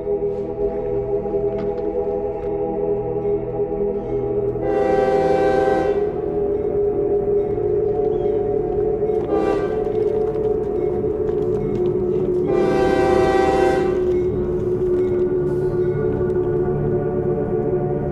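A train rumbles steadily nearby while its horn sounds in two long, loud blasts separated by a shorter toot.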